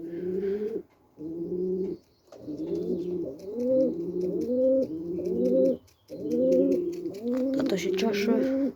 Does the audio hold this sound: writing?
no